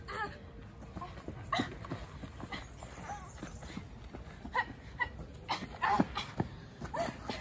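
Several dogs bark in short yips and let out whimpers in a staged animated fairy-tale scene, the sharp barks spaced irregularly against a busy background of hoof-like clatter and scuffling.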